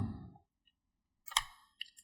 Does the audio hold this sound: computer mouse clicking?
yes